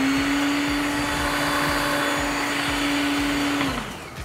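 A food processor whirs steadily and loudly while blending banana into a puree, its motor holding a constant pitch before spinning down and stopping near the end.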